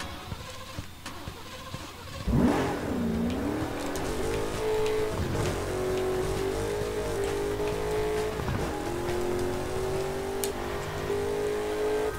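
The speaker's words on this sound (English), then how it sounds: "Hold the accelerator to fire up the engine." A video game car engine cranks and fires up, then revs hard and holds a steady high whine, with a few rises and dips in pitch throughout, loud and close with no talk.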